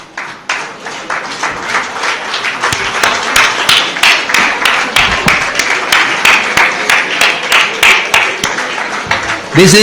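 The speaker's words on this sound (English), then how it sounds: "I would like to ask the members to stand up and others to clap, please." An audience claps together at a golden jubilee celebration, a dense, steady run of handclaps held for nearly ten seconds, with voices mixed in underneath.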